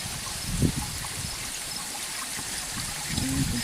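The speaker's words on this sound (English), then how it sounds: "You can see the waterfall in action down there as well." Water runs steadily through a small gold sluice, a continuous close trickling and gurgling wash with a faint low murmur beneath it.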